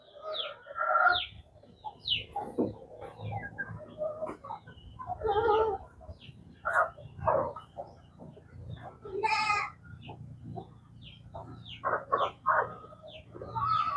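Chickens cluck in short, scattered bursts over several seconds, with other farm animal noises and faint rustling in the background.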